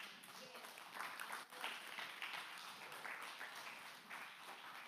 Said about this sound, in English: Somebody ought to give him a hand clap.